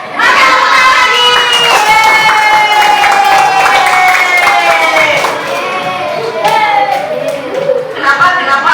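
A class of schoolchildren claps hands loudly and rhythmically up close, with children shouting and chanting along over the clapping for several seconds.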